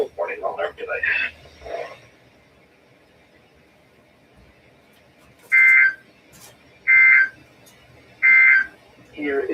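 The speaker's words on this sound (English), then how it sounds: "This concludes the test of the NOAA All Hazards Weather Radio Warning Alarm device." A NOAA All Hazards weather radio warning alarm test tone sounds as three loud, steady electronic beeps evenly spaced about a second and a half apart, after a broadcast voice finishes speaking, with the voice resuming at the end.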